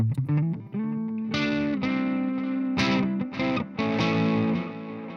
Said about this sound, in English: Stereo delay.